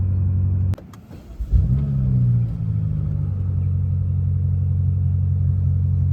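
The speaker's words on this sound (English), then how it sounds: "with the windows down, you can kind of hear that exhaust note" A BMW M5 Competition LCI engine fires up after a brief click and whir, revs once with a rising growl, then settles into a deep, steady idle rumble heard through open windows.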